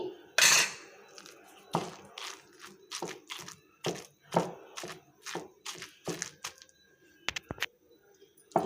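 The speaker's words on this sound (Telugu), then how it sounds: "ఇప్పుడు ఈ చింతపండుని కూడా ఇది కూడా వేసేసుకొని దంచేసుకోవాలి" A pestle pounds tamarind and tomato for chutney in a mortar, giving a string of sharp, irregular crunching thuds about every half second, close and fairly loud, with quiet pauses between strikes.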